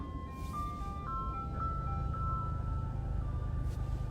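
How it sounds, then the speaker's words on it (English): An ice cream truck's tinkling jingle melody plays faintly from outside, distant and thin above a constant low rumble of background noise. "Did you hear that ice cream truck?"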